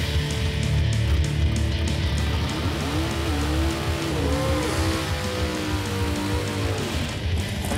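Loud, steady engine drone from a 1959 Chevy Corvette drag car running at a drag strip, a rising and falling whine sweeping through the middle, with no talk over it.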